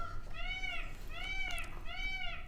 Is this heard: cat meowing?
yes